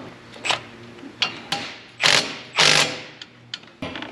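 A ratchet wrench fitted with an extension works on aftermarket turbo parts, giving several short, close bursts of rapid metallic clicking separated by pauses, with no talk.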